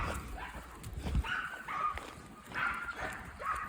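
A young pup makes faint whimpering yips and soft barks in the background, mixed with low rumbling noise and some indistinct voices.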